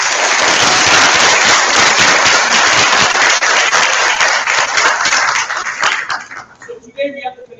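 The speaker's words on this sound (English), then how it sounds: "Give them a round of applause, please." Secondary school students give a round of applause for the Canadian ambassador, loud dense clapping filling a room for about six seconds before thinning out into a few scattered claps and some voices.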